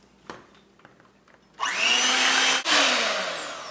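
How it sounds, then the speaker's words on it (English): An electric mixer starts up after a quiet pause and whirs loudly and steadily while beating egg whites for a berry cake, with a brief dip in pitch partway through. "you want to beat your egg whites as long as they are able to stand on a whisk"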